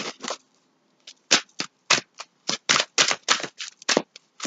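Tarot cards riffled and shuffled close up in quick papery bursts, with brief pauses between flurries and no voice.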